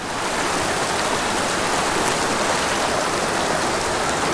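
A small mountain creek holding cutthroat trout flows steadily and close by, a dense, even rush of running water with no pauses and no voices.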